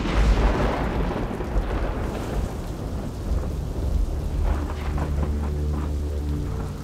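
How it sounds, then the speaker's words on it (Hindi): Heavy rain pours down in a dense, loud wash while deep thunder rumbles and rolls beneath it, the storm steady and close throughout. "तेज बारिश हो रही थी।"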